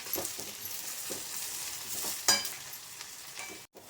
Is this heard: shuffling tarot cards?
no